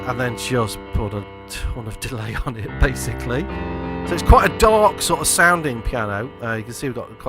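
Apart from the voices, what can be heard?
No everyday noises stand out.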